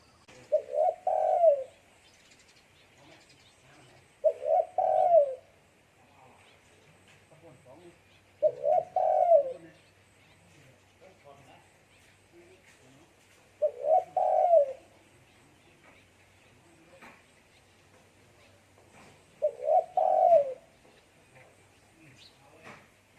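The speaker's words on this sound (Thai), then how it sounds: "มารับชมเสียงขันเรียกด้วยนะครับ ขันเรียกของตัวเมียตัวนี้นะครับ" A female spotted dove coos in five evenly spaced bursts, each a short low rolling call, with quiet pauses between and faint background chirps.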